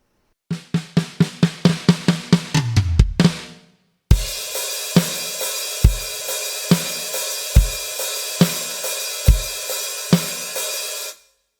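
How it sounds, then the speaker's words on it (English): Drum kit fill of rapid even hits building into a crash, then a brief gap before a loud chorus beat with wash-heavy cymbals over steady kick and snare hits, played alone and close-up. "So the fill going into a chorus beat would sound like this."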